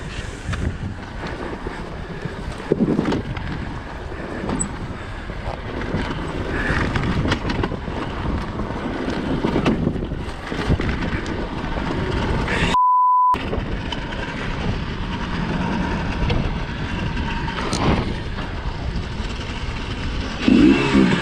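A Yamaha YZ dirt bike with a holed clutch cover is ridden along a trail, its engine a steady rough drone mixed with wind buffeting, moderately loud and close, with a brief beep partway through.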